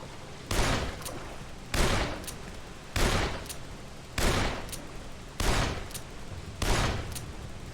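Gunfire from Dead Island rings out in six evenly spaced loud bursts, each a sharp crack with a short ringing tail. The shots repeat at a steady rhythm over a constant background din, with no talk.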